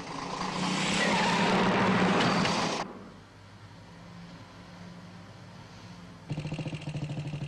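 A motorcycle tears along a 1960s street, its loud, harsh engine roar swelling and then cutting off abruptly as the bike crashes, leaving faint background rumble before a new burst of rhythmic noise at the end.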